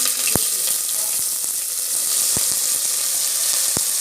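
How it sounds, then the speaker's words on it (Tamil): Sliced onions sizzle in hot oil with cinnamon and cloves, a steady crackling hiss broken by a few sharp utensil clicks against the pan. "இப்போ நம்ம வெங்காயம் போட்டுக்கலாம்."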